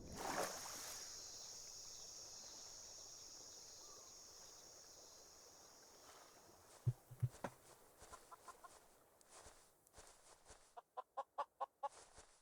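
Minecraft chickens clucking in short, sharp bursts toward the end, preceded by a steady faint hiss of game ambience; the clucks come in a quick rhythmic run of several close, fairly loud notes.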